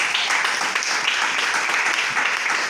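A church congregation applauds in acclamation, a dense, steady wash of clapping from many hands that fills the space without a break.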